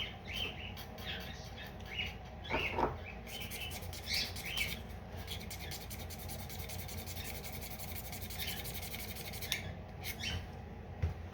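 A plastic model propeller blade is scraped by hand to lighten it, giving quiet, continuous rasping strokes with a few brief sharper squeaks, close but faint throughout with no speech.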